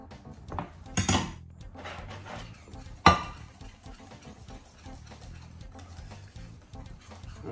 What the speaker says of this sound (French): On met le chou-fleur dans le plat de cuisson.